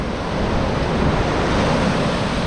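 Ocean surf breaking on the shore, a loud, continuous wash of waves and wind at close range while fishing from the beach, with no talk.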